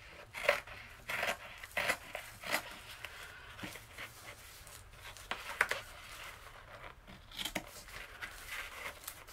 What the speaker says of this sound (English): I'm just going to trim that off where the white is.